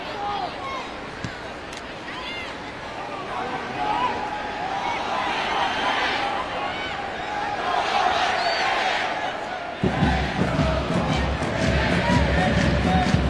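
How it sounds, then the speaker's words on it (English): A big crowd roars steadily throughout a women's soccer match between the USA and Mexico in a stadium, a dense wash of cheering that swells louder near the end. "Crowd making a great noise here."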